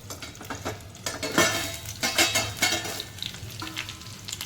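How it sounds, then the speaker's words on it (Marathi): Stuffed green chillies fry in a pan with a steady, soft sizzle. Scattered scraping and stirring clinks from a utensil against the pan come and go, close by and fairly quiet. "चारी बाजूने आपल्या मिरच्या व्यवस्थित शिजलेल्या आहेत."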